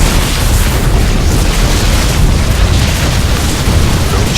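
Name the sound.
photon cannons being destroyed in StarCraft II video game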